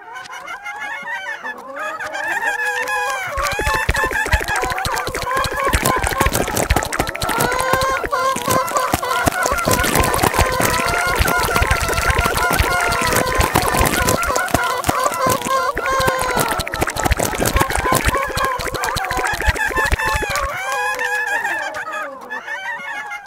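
A palindrome built by an audio palindrome generator from a source sound file, full of repeated clucking and crowing chicken-like calls that sweep up and down, steady and loud throughout and mirrored end to end.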